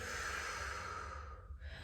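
A long, steady exhale during a yoga flow, a soft airy breath that trails off near the end, close and alone without talk.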